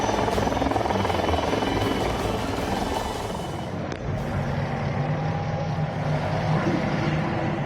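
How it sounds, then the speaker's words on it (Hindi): A deep, steady attack helicopter rumble fills the whole stretch, loud and continuous, with a brief dip partway through before the churning drone resumes. "युद्ध टैंक और अटैक हेलीकॉप्टर की गड़गड़ाहट"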